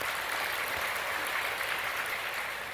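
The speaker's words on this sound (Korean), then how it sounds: "우리 한번 그분에게 한번 박수 한번 격려박수 해드릴까요?" Church congregation applauding during a Sunday sermon, a steady, even patter of many hands in a large hall, moderately loud and sustained without voices.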